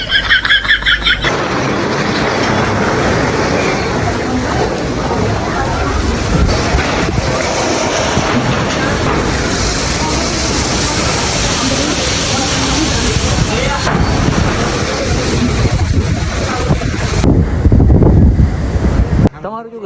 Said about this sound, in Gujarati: અચાનક તો વરસાદ સાથે ફૂલ પવન ને વાવાઝોડું ચાલુ થઈ ગયું